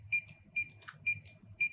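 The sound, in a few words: wireless gate opener keypad beeping twice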